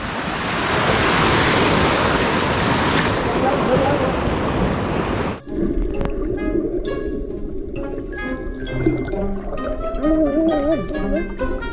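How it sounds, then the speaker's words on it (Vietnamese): Big ocean waves surge and crash loudly at the seashore for several seconds, then the roar suddenly drops away, leaving quieter background sounds and faint voices. "Sóng lớn quá rồi"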